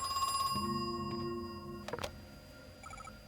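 A telephone rings in the Crow Country video game, a clear electronic bell trill with steady repeating tones over low game ambience, then a brief clatter and a fainter ring near the end.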